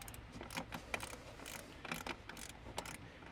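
Wrench loosening a tight factory bolt on a fire extinguisher mount inside a Toyota Prado 150, giving quick ratcheting clicks and metallic ticks in short bursts, close and fairly quiet.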